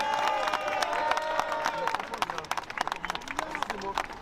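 A rally crowd in Marseille claps and cheers for Manuel Bompard at a France Insoumise ceasefire event, with dense rapid applause, whoops and raised voices mixing over a few seconds.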